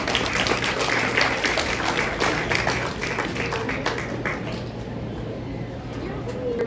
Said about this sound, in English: Can we give him one more big round of applause?